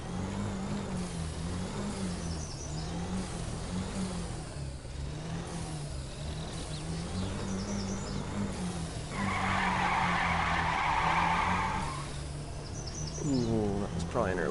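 A Mazda RX-7 launching off the line in a Gran Turismo drag race, engine droning and pulsing through the gears, a burst of tire skid in the middle and a fresh rev rising near the end, with a voice talking underneath.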